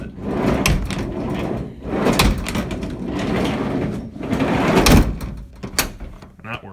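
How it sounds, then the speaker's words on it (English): Door of a slightly rusty 1973 VW Westerner camper van swinging open, a few thuds and clicks of the latch and hinge mixed in with ongoing handling noise and movement around the van. "But you open this door, and it opens like it should."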